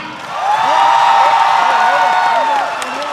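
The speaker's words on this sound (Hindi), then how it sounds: "जोरदार तालियां" Audience applause and cheering for a Bollywood actor at a public event in Kurukshetra, a loud crowd roar with clapping and whoops that swells then eases over a few seconds.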